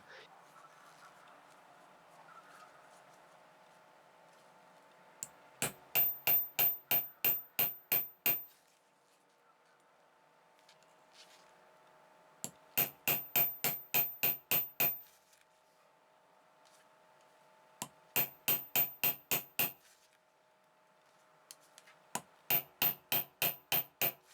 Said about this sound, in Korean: 망치질은 가볍게 하시면 됩니다.